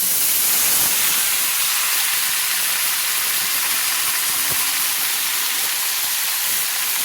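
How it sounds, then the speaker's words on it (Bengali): Mixed vegetables, potatoes among them, hit hot oil in a pan while cooking a fish head mixed vegetable curry, raising a loud, steady broadband sizzle with steamy hiss that runs unbroken throughout. "এবার আমি একসঙ্গে সব সবজিগুলো ঢেলে দিচ্ছি"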